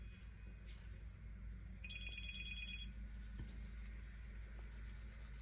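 A telephone rings with an incoming call, a single short burst of electronic ringing, fairly faint against a quiet room background with no talking.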